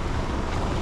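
Floodwater rushes hard along a Dubai street after heavy rain, a dense, steady roar heard close up with no voices, lasting under a second.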